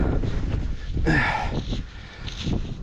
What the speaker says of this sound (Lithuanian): Vėjota šiandien žiauriai.